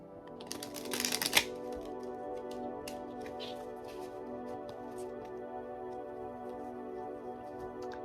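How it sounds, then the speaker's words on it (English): A deck of cards is shuffled for a deck cleanse, giving one quick, crisp riffling burst that is fairly close, followed by quiet room tone. "I'm going to start by just doing a deck cleanse via shuffling."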